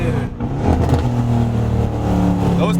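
Loud, close revving from a straight-piped Mercedes-AMG C63 S fitted with downpipes, the engine climbing and settling in a continuous throaty roar.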